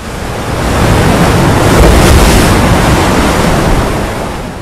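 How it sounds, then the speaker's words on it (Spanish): An ocean wave breaks on the sea surface, a single broad rush of surf that swells over a couple of seconds and then slowly fades, with no voices. "Cuando una ola rompe contra la superficie del mar, hace que el gas descienda."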